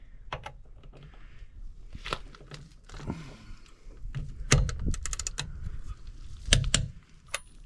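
Sharp clicks come from a torque wrench as bolts on a vehicle are tightened, a few separate snaps close by over a quiet background.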